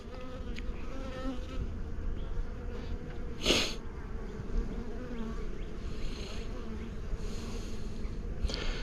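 Honeybees buzz steadily around an open hive in spring, a continuous low hum with individual bees passing close by now and then. No one speaks.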